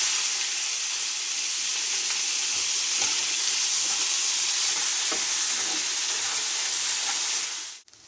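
Chopped onions and whole cumin seeds fry in a pan with a continuous close hiss and sizzle, a few soft stirring taps, cutting off abruptly at the end.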